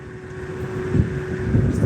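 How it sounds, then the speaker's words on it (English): Gusty wind buffets the microphone with low rumbling bursts, steady and fairly loud throughout. "it's a little windy right now"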